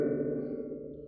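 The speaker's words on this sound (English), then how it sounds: "So now you can start to hear the reverb effect." Spring reverb effect from a real-time physical model, a sharp tap followed by a long, ringing, metallic tail that hums and slowly decays, heard alone.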